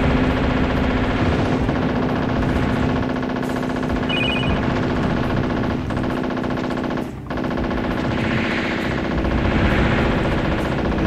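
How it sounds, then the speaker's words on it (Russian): Helicopter machine guns fire in the video game WarGames: Defcon 1, a loud, dense and continuous burst of rapid gunfire running throughout, with a brief dip near the end and no talking. "Да, пулеметы у вертолета однозначно сильнее"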